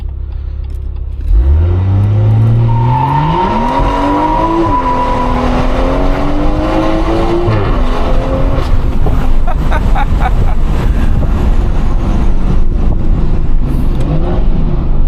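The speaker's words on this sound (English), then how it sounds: "try to do a launch control for you guys." A Stage 2 tuned, 400 hp BMW M140i revs hard and launches with launch control, pitch climbing through several sharp gear changes as it accelerates loudly and continuously close by.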